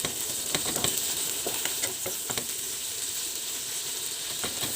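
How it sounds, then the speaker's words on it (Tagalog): Onions or aromatics sauté in hot oil in a home kitchen pan, giving a steady, faint sizzle broken by scattered clicks and scrapes of stirring. "Init lang ating mantika. Igisa-gisa natin ito."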